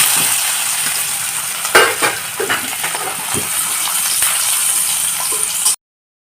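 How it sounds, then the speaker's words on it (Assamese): Paneer cubes fry in hot oil in a home kitchen pan, a loud steady sizzle with occasional scraping and stirring clinks, then cutting off abruptly into silence. "এতিয়া মোৰ তেলটো ধুনীয়াকৈ গৰম হৈ গৈছে, আৰু এতিয়া মই পনীৰটো দি চাওঁ"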